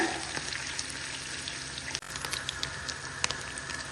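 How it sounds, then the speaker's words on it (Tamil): Paneer pieces frying in oil give a steady, close, quiet sizzle with light crackles on top, cut once by a brief dip in the sound. "இந்த மாதிரி வர்ற அளவுக்கு நம்ம ஃப்ரை பண்ணிக்கலாம்."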